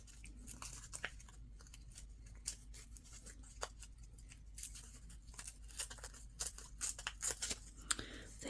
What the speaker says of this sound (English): just kind of do a rough rip around it